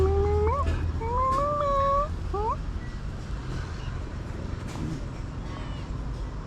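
A cat meows several times in quick succession during the first two and a half seconds, loud and close. Steady outdoor background noise fills the rest of the clip, which comes from a farm where land is being prepared for seedlings.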